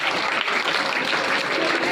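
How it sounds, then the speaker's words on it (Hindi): Enthusiastic applause from students at a motivational lecture in an Urdu school hall, a brief, dense burst of many hands clapping, loud and even throughout. "जोरदार तालियां।"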